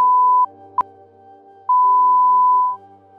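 A multimeter's continuity-test tone beeps three times: a short beep, a brief click-like blip, then a longer sustained beep lasting about a second.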